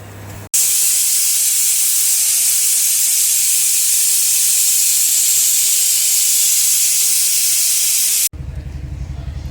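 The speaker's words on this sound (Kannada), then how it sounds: "ಒಂದು ವಿಜಿಲ್ ಆಯಿತು." A pressure cooker of chicken biryani lets off one long, loud, steady jet of hissing steam for about eight seconds, starting and stopping abruptly, with quieter kitchen noise on either side.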